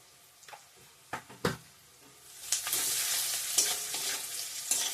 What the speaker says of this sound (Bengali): এখানে তেজপাতা পেঁয়াজ দিয়ে দিচ্ছি এখন একটু পাঁচফোড়ন দিয়ে নিলাম